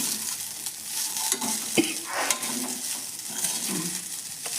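Spice tempering sizzles in a pan for avalakki susla, a dense steady crackle of hot oil with occasional metallic clinks and stirring scrapes, close and loud, with no voices.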